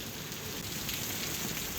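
Steady, dense hiss of monsoon rain falling in Andheri, Mumbai, continuous and even, with no voices.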